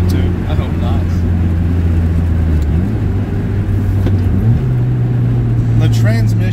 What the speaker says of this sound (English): as you can hear from all the wind noise or see with this big hole in my top